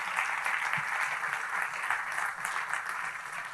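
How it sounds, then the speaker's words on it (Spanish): Church congregation applauding, a steady sustained wash of many hands clapping together at close to moderate distance, with no talk over it. "Regálele un aplauso al Señor."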